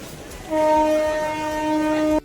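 At Asansol railway station, a train sounds a long, loud, steady horn blast lasting well over a second over rumbling station background noise.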